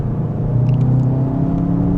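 A 2025 Volkswagen Jetta GLI or Hyundai Elantra N pulls under throttle in sport mode, its turbocharged engine holding a steady low droning rumble with a faint whir, close and continuous with no talk.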